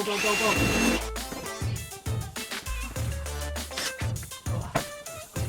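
A power drill whirs in short, repeated bursts, starting and stopping amid clattering and nearby voices.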